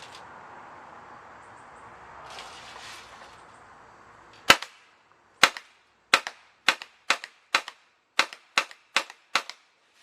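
An HK 416 rifle fires at a target: ten sharp shots, the first alone and then nine in a quick, fairly even string, each a crisp crack followed by brief quiet, after a few seconds of low handling noise.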